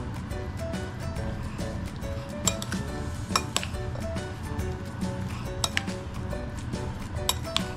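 Corn kernels and chopped tomato stirred together in a bowl with a spoon, giving steady scraping and light clinks, with occasional sharper taps against the bowl's rim.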